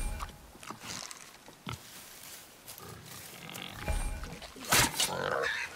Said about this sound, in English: Could the boar be magical?